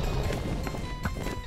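A horse galloping in a Minecraft map called Dragon City, its rapid hoof clip-clops thudding in a quick, uneven rhythm, close and moderately loud.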